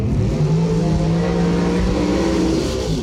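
A dragster roars down the drag strip with a sustained, loud, rising engine howl that fills the whole clip.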